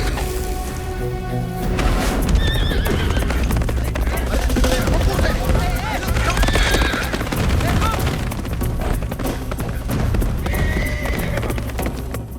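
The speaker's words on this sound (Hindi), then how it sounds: "ये घोड़े पे किधर भागता चला जा रहा है?" A horse gallops away in an action-film chase scene, steady clip-clop hooves and whinnies under a loud, dense score with gunfire-like bursts, continuous throughout.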